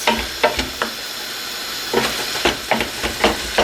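Carrot, frozen onions and mince sauté in a pan, with a continuous close sizzle and hiss broken by rhythmic bursts of stirring and scraping.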